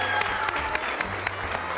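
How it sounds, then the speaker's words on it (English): Audience applause at a holiday lights event at the Columbus Zoo, dense, steady clapping from a nearby crowd with scattered sharper claps standing out. "How about giving your moms and dads a round of applause?"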